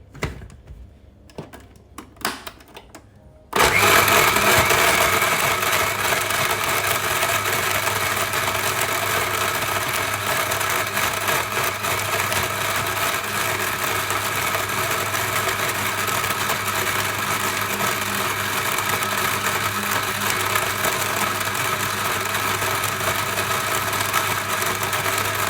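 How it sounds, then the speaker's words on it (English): Electric blender whirring through a pudding mixture for baking, starting abruptly after a few quiet seconds of small handling noises, then running loud and steady to the end. "I think that's it for the blender too."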